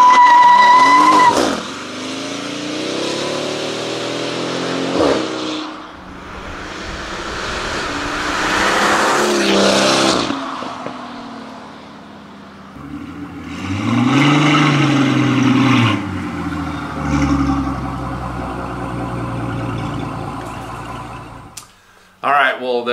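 Straight-piped Mercedes S65 AMG with its 6.0L V12 sweeps past in a loud, rising-and-falling flyby, with several swells of engine roar and revving over about twenty seconds, and some people talking in between.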